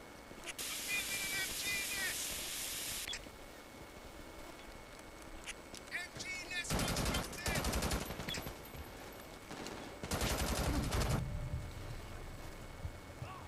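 Bursts of machine gun fire from a mounted MG nest in the shooter game Brink, two long loud rattling volleys with steady hiss and game noise between them.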